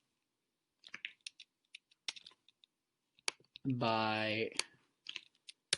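Typing on a computer keyboard produces scattered, light key clicks and taps in short irregular bursts, briefly broken by a spoken voice.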